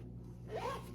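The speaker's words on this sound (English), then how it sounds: "that's caught my zipper" A clothing zipper snags briefly, a short rasping pull near the mic in a quiet room with low background hum.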